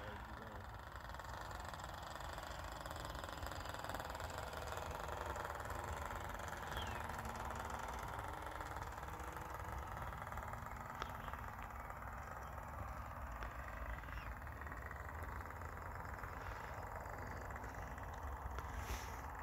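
A small 1940s-design model aircraft diesel engine drones steadily and fairly loudly throughout, a continuous buzzing hum with slight shifts in pitch as the throttle varies.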